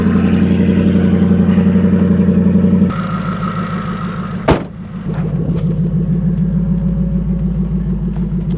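A 700hp Jaguar XFR V8 idles steadily while warming up, a loud close throbbing rumble that shifts to a slightly lower, rougher tone partway through after a brief sharp click.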